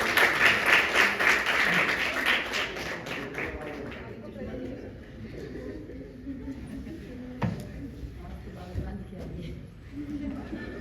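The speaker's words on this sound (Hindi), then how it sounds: "एक बार जोरदार ताली" An audience at a children's poetry recital stage event applauds loudly at first, the clapping fading after a few seconds into murmuring crowd noise with scattered taps and knocks.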